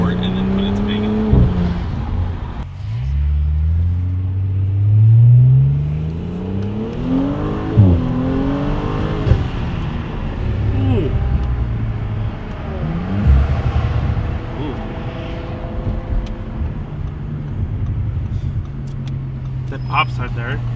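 An Audi B9 S4 with an ECS X-pipe exhaust revs up and down through rising and falling engine sweeps, with a few sharp pops between revs. A person talks over the engine throughout.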